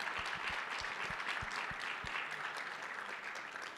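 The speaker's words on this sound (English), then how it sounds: "please help me by giving a round of applause to both Julie and Janine." Audience at a CES 2024 conference panel applauding, a steady wash of many hands clapping at moderate distance that tapers slightly toward the end, with a few louder individual claps nearby.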